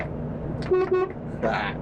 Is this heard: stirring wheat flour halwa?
no